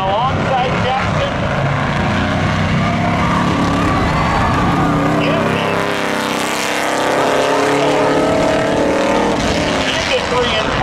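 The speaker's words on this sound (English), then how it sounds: "Right out there next, in a 1986 Chevy Camaro from Plymouth, Massachusetts, it's Jackson Decker" A 1986 Chevy Camaro drag racing at Seekonk Speedway in a Labor Day spectator drag event: loud, sustained engine roar across the whole stretch, with an announcer's amplified voice talking over it.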